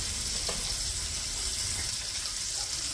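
Dosa batter hisses and sizzles steadily on a hot pan at close range, a continuous faint frying noise with no talk.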